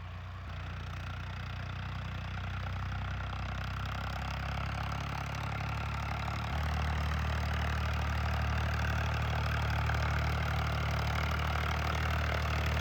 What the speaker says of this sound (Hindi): देखो अब आ चुका है ट्रैक्टर हमारे साथ